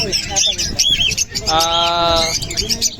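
Chirping and squawking birds at a pet market in Bocaue fill the space, several calling at once, with people talking amid the chatter.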